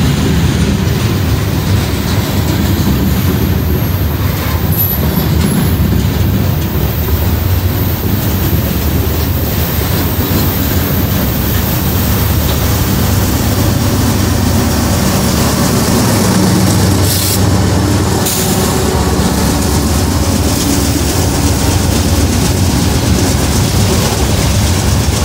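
A CSX freight train rumbles past on the line, a steady loud low roar with rail clatter and wind buffeting the microphone throughout, no voices.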